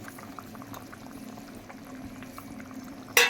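Thin rohu fish curry broth with vegetables and black cumin boiling in a pot: a continuous low bubbling simmer, close and moderate in level, ending in a sudden louder splash or clatter.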